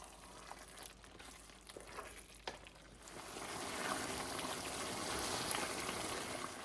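Mutton liver frying in a pan, a steady soft sizzle that swells louder and denser in the second half, close and continuous with no voices.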